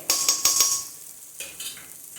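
A spoon scrapes and stirs prawn curry masala with salt in a hot pan for a chiko malaikari, giving a few close, bright scraping strokes over a soft sizzle, then a quieter pause and a couple more stirs.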